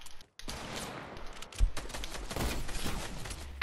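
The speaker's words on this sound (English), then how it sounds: "SMG." SMG fire in a video game 1v1 match, rapid bursts of automatic gunshots after a short silent gap, continuing in dense, loud clusters to the end.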